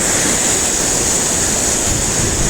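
Niagara Falls roars in a steady, loud, unbroken rush of falling water, heard close with some wind buffeting the microphone and no voices.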